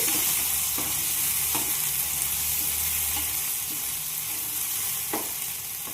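Ground tomato and spices are stirred together in a hot pan, giving a loud, continuous sizzle with occasional spatula scrapes throughout.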